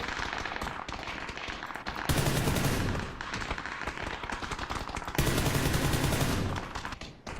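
Dense gunfire in the PUBG video game, rapid automatic bursts crackling continuously with two louder, heavier stretches of firing, somewhat distant and harsh, with no one talking.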